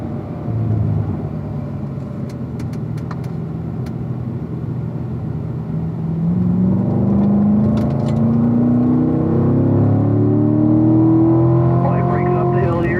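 A car on a race track accelerates hard, its engine note climbing steadily in pitch with a rising rumble, while an instructor talks over it throughout.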